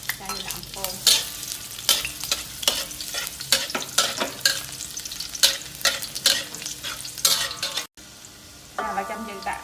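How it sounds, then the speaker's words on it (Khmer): Garlic frying in hot pork lard at the start of a stir-fried eel with holy basil, with steady sizzling broken by rhythmic spatula scrapes and stirs, close and loud, then a brief pause near the end. "ដល់ខ្លាញ់ក្តៅហើយខ្ញុំដាក់ខ្ទឹមស"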